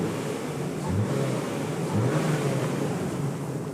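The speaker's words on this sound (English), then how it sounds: "I'll give you a little bit of a engine rev." A stock-exhaust engine on a 1998 Nissan Skyline 25GT ER34 four-door revs in two short rises over a steady idle, close and moderately loud with no talk.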